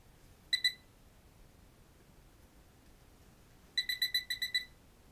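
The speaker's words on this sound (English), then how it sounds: "We got an alarm right here." A room alarm goes off in a house during a paranormal investigation, sounding as a short double beep and then a rapid run of about seven high electronic beeps against a quiet, low background hum.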